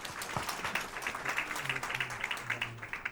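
A moderately sized audience at an investment and market research talk claps for a panelist, a light, fairly distant patter of hands with a faint voice underneath.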